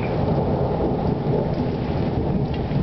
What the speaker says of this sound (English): Thunder is the sound that lightning makes